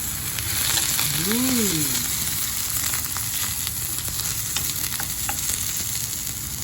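Garlic and sausage sizzle and fry in a pan until crispy, with a steady dense crackle and occasional stirring scrapes; a brief whooshing tone sweeps past early on.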